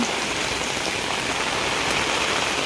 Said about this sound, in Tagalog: Ganito na ulit ang ulan.